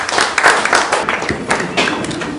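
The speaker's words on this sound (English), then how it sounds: "Give him a round of applause, please." A room audience gives a round of applause, a brief dense burst of many hands clapping at once, loud and close, with a few louder thuddy claps in it.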